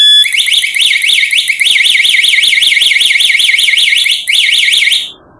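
Homemade fire detector alarm sounding, a loud, piercing electronic siren warbling rapidly up and down in pitch, continuous apart from one brief break before it cuts off.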